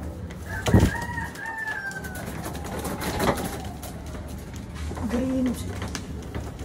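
Birds and pigeons kept as pets give scattered calls, including a rooster-like crow near the start and brief cooing later, heard moderately close over a steady noisy background with no clear talking.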